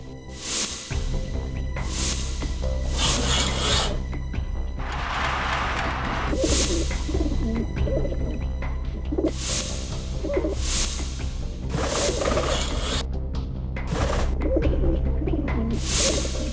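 Pigeons coo in a steady series of soft, throaty calls, close by and repeating every second or two with no talking over them.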